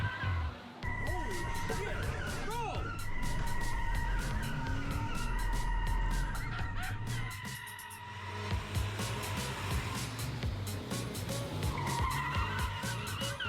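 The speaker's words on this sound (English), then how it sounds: "I never thought I'd see the day that we'd have 2 school buses racing on it." Two school buses drift on a drift track, their tires skidding and squealing in long, loud stretches with engines roaring close by; a brief lull comes midway, then the screeching resumes, and voices talk faintly underneath.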